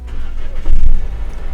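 A 2017 Nissan Serena C27 starts at the push of a button, giving a low, muffled engine rumble that swells briefly mid-clip and then settles, heard from inside the cabin.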